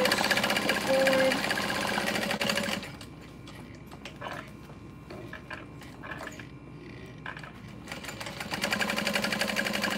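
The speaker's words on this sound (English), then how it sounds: "I stitch the board." A sewing machine stitches a vertical pocket on a messenger bag, its steady mechanical whirring running loud for a few seconds, dropping to a lower, uneven hum in the middle, then picking back up to full speed.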